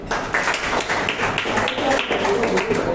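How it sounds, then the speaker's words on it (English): Students in a classroom clap together in a dense, steady patter lasting about three seconds, with overlapping claps filling the room at moderate loudness. "can we have a clap for him?"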